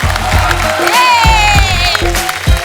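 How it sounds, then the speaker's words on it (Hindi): Studio audience on a celebrity comedy talk show applauds loudly and steadily, a dense wash of clapping with some cheering and a whistle rising over it, with a host's voice on top. "जोरदार तालियां अक्षय बाजी और रकुल के लिए।"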